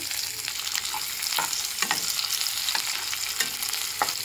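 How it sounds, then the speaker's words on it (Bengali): Ginger, green chili and garlic frying in hot oil left from frying chicken, a steady close sizzle with repeated spatula stirs and scrapes, no talking. "আদা, কাঁচা লঙ্কা আর রসুনটা একটুখানি লালচে করে ভেজে নেব"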